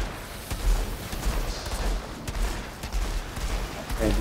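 Scattered gunshots in the looter-shooter video game Outriders come as irregular bursts of moderate cracks and thumps mixed with game effects, with a player's voice talking during the fight.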